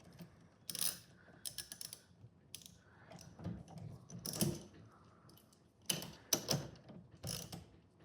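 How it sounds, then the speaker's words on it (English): Wrench ratcheting a nut tight on a Bushtec shock absorber, close quiet bursts of rapid clicking separated by short pauses and softer handling sounds. "So now we're just going to tighten it back up, make sure everything works well."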